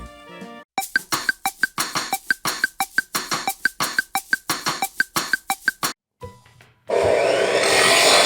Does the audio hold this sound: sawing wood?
yes